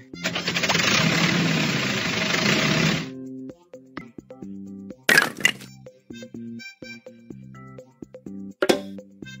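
Tractor engine starting in a kids' vehicle puzzle game: a dense mechanical rattle runs for about three seconds and then cuts off, followed by light cartoonish tones and two sharp cracks.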